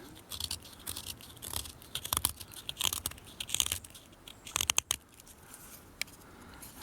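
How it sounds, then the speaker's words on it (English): A Falcon Knives Chain Link spring-assist pocket knife with a 440 stainless steel blade cuts into wood, making close, irregular crunchy scrapes and sharp snapping bursts, with quieter pauses between strokes. "Let's cut a bit of wood."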